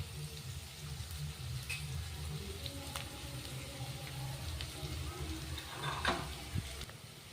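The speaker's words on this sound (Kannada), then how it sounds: "ಶುಂಠಿ ಬೆಳ್ಳುಳ್ಳಿ ಸ್ವಲ್ಪ ಗೋಲ್ಡನ್ ಕಲರ್ ಬರೋವರೆಗೂ ಫ್ರೈ ಆಗಲಿ" Crushed ginger and garlic fry in oil in a pan for a drumstick palya, giving a soft, steady sizzle with a few faint clinks and stirring scrapes, heard fairly quietly.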